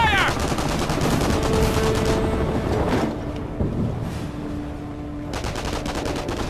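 Rapid machine-gun bursts crackle during a base attack in the World War II strategy game Company of Heroes, a dense fusillade for a few seconds, a brief lull, then the firing resumes.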